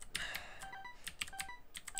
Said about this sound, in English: possible ways that I can reduce the clicky sounds of my keyboard in these videos